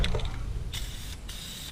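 Short bursts of John Deere yellow spray paint hiss from an aerosol can onto a metal deer feeder filler, with three quick close sprays and no talk.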